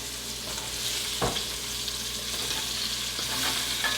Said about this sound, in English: You're going to let it just cook down, so give it a little stir.